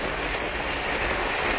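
A passenger train rolls along the short line near Dankuni towards Howrah, heard from inside as a continuous even roar of wheels and wind at moderate level.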